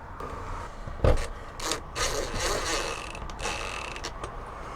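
Screws are driven into an acrylic window being fitted into a Fiat Ducato campervan, giving intermittent creaking, grinding rubs and a sharp knock, fairly quiet and close with no talking.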